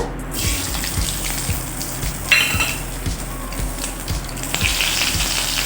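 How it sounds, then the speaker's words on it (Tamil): Spices and curry leaves crackle and sizzle in hot oil while being tempered, a steady close-up frying hiss with repeated sharp pops throughout. "எண்ணெய் ஊற்றிட்டு தாளிக்க வேண்டிய பொருளாக தாளிச்சிடுங்க"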